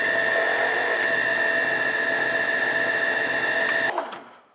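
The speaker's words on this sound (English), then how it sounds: "Now I'm just gonna wipe the brass down and trim it." A bench trimmer cutting brass cartridge cases gives a loud, steady motorized whine that runs unbroken, then stops abruptly and winds down near the end.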